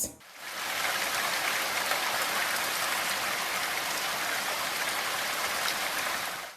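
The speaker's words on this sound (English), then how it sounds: "Rain, rain, rain. So a lot of us hear this." Rain falls in a dense, steady hiss of countless drops on surfaces, swelling in within the first half second and then holding loud and even, with no voices.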